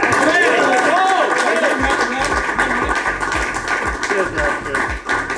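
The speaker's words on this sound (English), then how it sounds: "Last time, can you guys give a round of applause for Ollie, Hannah and Dolby, please?" Audience applause at a Vitality Blast cricket match between Bears and Vikings, loud crowd clapping and cheering mixed with a steady hum and an announcer's voice over the top.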